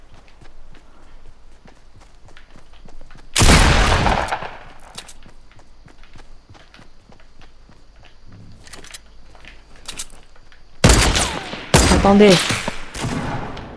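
Sniper and other gunfire in a Fortnite Battle Royale solo match: sharp, loud bursts of shots in separate clusters, with game footsteps between them and a brief spoken word.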